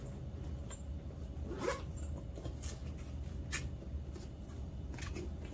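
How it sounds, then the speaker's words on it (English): Zipper on a LiPo safe bag for charging batteries being pulled closed, a few short, faint scratchy zips close by over a quiet background. "zip it up"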